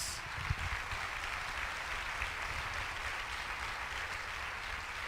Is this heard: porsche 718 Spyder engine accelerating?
no